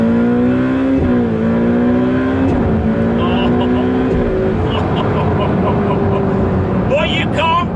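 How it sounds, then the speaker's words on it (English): A Ferrari 488 Pista accelerating hard on a racetrack after downshifting, its engine note climbing in loud rising sweeps through gear changes, close up and dominant throughout, with a brief higher whine near the end. "What you can't get a sense of is the brutality of the car, the acceleration."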